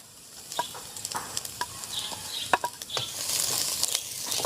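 Finely chopped ginger and garlic fry in a hot pan over high heat, giving a steady sizzle broken by scattered sharp crackles and pops, growing louder and denser toward the end.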